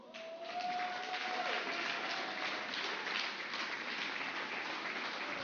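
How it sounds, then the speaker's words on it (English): Steady applause from an audience at a sports awards ceremony fills the hall, even and sustained, with faint background tones under the clapping. "Please let's keep the applause going."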